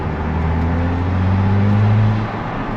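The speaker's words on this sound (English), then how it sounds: "it actually has no problems picking up speed and getting up to speed very" A 2025 Ferrari 296 GTB accelerates up through its revs, a loud, close engine drone whose pitch climbs steadily before easing off at a shift.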